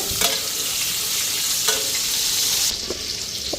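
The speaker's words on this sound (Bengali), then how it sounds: "বেগুনটা ফ্রাই করে নিতেছি" Eggplant frying in a pan, a steady loud sizzle with a few sharp utensil scrapes and stirs at intervals, no voices.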